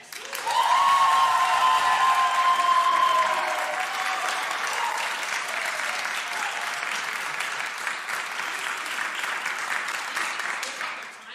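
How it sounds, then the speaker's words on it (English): An audience claps for the singers at a music lecture recital, a long sustained roll of applause that is loud at first and then holds steady throughout. "can we give one huge round of applause for these singers?"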